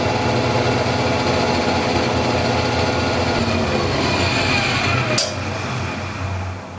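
A Powermatic 15HH planer runs loud and close with a steady mechanical roar. A brief sharp clatter comes near the end before the noise eases slightly.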